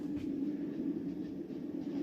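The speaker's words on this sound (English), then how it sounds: "It sounds like the train's driving" A train running inside a live-streamed setup gives a steady low rumble that holds evenly throughout, with no talk.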